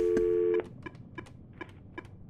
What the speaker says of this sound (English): Let me check this ancient landline for messages.